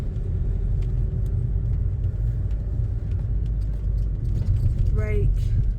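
A learner driver's car pulls off in second gear, its engine giving a low, steady rumble from inside the cabin while the driver talks over it.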